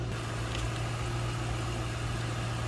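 A stock 2006 Ford Mustang GT Premium Convertible V8 idles steadily with a deep, continuous rumble and constant low hum, nearby and unchanging throughout.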